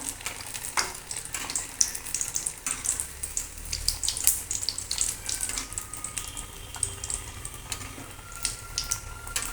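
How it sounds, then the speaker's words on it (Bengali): Potato chops deep frying in hot oil, a continuous crackling bubble with frequent sharp pops and spits, close up and steady throughout, no talking. "এরকম করে সব চপগুলো ভেজে নেব"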